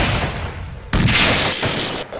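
A sudden loud blast on a ship in a Lego Star Wars stop-motion scene, bursting in after a near-second of low rumble and ringing out in a dense, crackling roar that slowly fades.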